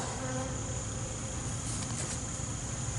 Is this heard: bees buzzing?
yes